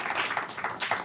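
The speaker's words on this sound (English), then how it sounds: "one last round of applause for everybody" Brief scattered clapping from a panel discussion audience, a quick patter of hands that sounds fairly faint.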